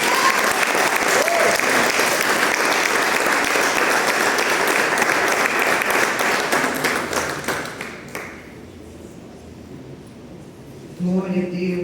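A church congregation applauds loudly and steadily for a woman pastor at a night service, the clapping thinning out and fading toward the end before a voice begins speaking.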